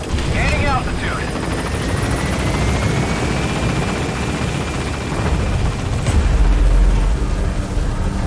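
A helicopter in the video game Metal Gear Solid 5 lifts off with a loud, steady rotor roar and engine whine, joined briefly by bursts and a deep boom near the end.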